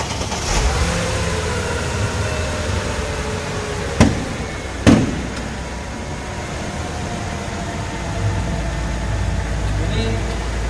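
A renovated 112 V6 car engine with new belts, pulleys and oil cooler runs at a smooth idle and revs, with two sharp knocks partway through and a person talking over the engine.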